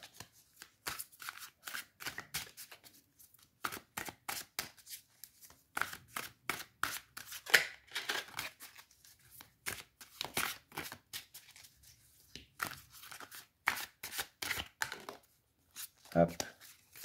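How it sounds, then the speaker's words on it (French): Tarot cards are shuffled by hand in a long series of quick riffling bursts with short pauses between them, close and fairly quiet. "Je vais donc vous tirer une carte du tarot, enfin du éphémère tarot même."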